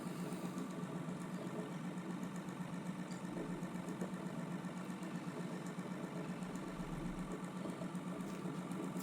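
A homemade pulse motor sculpture with alternating magnets spinning at nearly 500 RPM, giving a faint, steady mechanical hum with a fine rapid pulsing and a few light ticks, and no talking.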